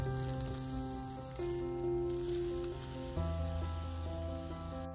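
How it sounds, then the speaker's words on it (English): Sausages sizzle in a skillet over an open fire, a steady faint crackle with tonal hums layered over it, no voices. "Half went into the skillet and half I did straight over the fire."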